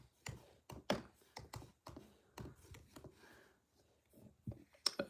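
Quiet typing on a computer keyboard indoors: irregular bursts of faint, close key clicks and taps spread across the stretch, with no talk.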